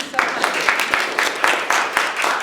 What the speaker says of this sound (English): let's give Janice a big clap